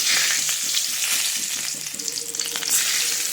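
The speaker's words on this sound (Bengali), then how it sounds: "আর এবার একটু রসুন ফোড়ন দিয়ে দেবো" Garlic tempering sizzles hard in hot oil in a pan after potatoes were fried, a loud steady crackle with faint stirring scrapes and no talk.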